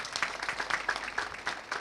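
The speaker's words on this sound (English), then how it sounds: "Can we applaud that?" Audience at a Technical University of Kenya graduation ceremony claps in a brisk, uneven patter, close and moderately loud throughout the short stretch.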